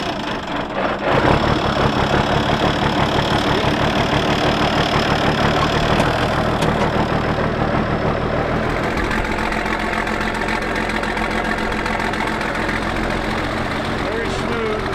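An old International tractor engine idles steadily and loudly close by, with a low rhythmic knocking chug and vibration that continues throughout, and the engine note shifts slightly partway through.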